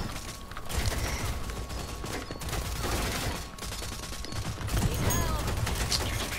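Gunfire in the online shooter Rogue Company: a dense, continuous fusillade of rapid shots and mechanical clatter that stays loud and busy from start to finish, with no pause.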